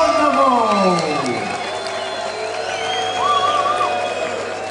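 A fight crowd roars, cheers and applauds after a TKO win at a combat sports event, with whoops and whistles in a big hall, loud and sustained beneath an announcer's voice.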